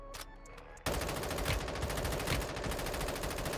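Rapid automatic gunfire from a video game: a few faint shots and then a sudden, loud, continuous rattle of fast-repeating shots that runs to the end, with no talking.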